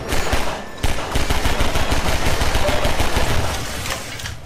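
Dense, rapid automatic gunfire from a Half-Life 2 firefight, loud and continuous with sharp repeated bursts crowding the whole stretch, no voices over it.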